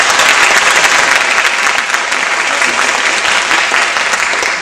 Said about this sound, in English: And if you believe the opposition have won,